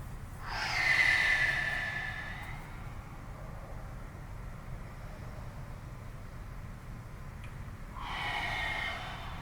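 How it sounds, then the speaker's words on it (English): Two long, forceful exhales come through the nose and mouth during a front-splits stretch, one at the start and one near the end. They sound close and breathy over a low steady room rumble, with no talking. "Really focus on my breathing. Big exhales."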